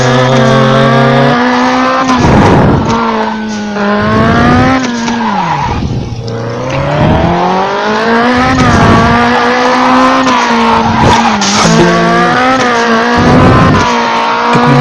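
Race car engine revving and tires skidding in the Rally Racer Dirt video game, a loud, continuous engine whine rising and falling through gear changes, with repeated bursts of skidding throughout.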